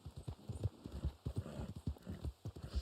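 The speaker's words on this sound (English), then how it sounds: "This horse is just called Trader Horse." Horse hooves clip-clop in a steady, fairly loud rhythm in Red Dead Online, the regular beats of a riding horse with a faint whinny-like tone mixed in.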